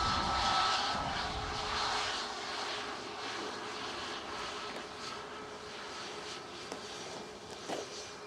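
A Boeing 737 MAX 8 airliner departs Manchester Airport for Antalya, its jet engines producing a steady, broad roar that slowly fades while staying fairly loud, with no talk over it.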